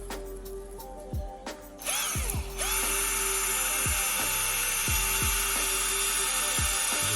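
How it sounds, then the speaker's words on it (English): A power drill whines steadily, with repeated dips and surges as the bit bores several holes into an old pine trunk, close and loud. "I'm going to drill at this point here a few holes"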